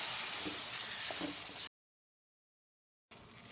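Tomatoes sauté in hot oil for Tamil tomato rasam, giving a steady broadband sizzle with faint stirring knocks that cuts out abruptly in the middle and then resumes.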